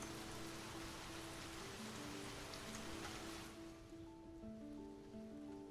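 Rain sound effect: a dense, even hiss of falling rain, continuous and fairly soft, with faint tonal hums threaded through the wash and no talking.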